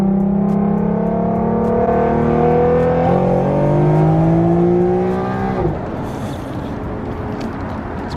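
An Infiniti Q50 engine revs loudly and close up while downshifting, its pitch climbing in steps with each gear change before dropping off into quieter road and engine noise.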